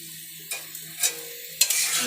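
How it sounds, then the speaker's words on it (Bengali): Chow mein fries in a wok and is tossed around, quiet sizzling punctuated by a few sharp clanks and scrapes of the stirring utensil, close by with no speech. "দিয়ে আবার সেটাকে নাড়াচাড়া করা হচ্ছে"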